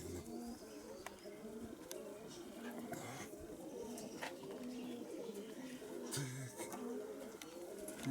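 Pigeons coo repeatedly at a dovecote, low and fairly close, against steady outdoor background noise as people talk nearby.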